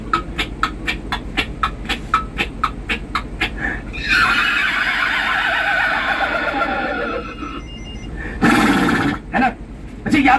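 A man imitates a horse with his voice during a film city tour in Mumbai: a run of rapid clip-clop clicks for hooves, then a long loud whinny-like cry, followed by a short burst of noise.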